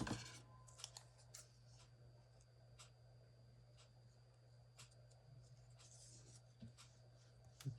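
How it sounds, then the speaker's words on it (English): Scissors trim the edges of a paper journal tag in quick, faint snips over a steady low hum, the cuts small and close and spaced irregularly through the quiet. "Trim these sides even."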